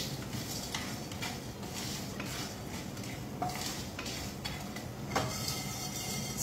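Masala is lightly roasted in a pan over low heat, with a steady soft sizzle and occasional light scrapes and clinks of a spoon against the pan.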